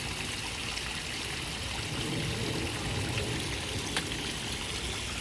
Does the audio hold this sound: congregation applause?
no